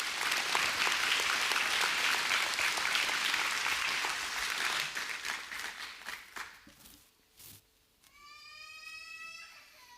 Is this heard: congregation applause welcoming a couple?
yes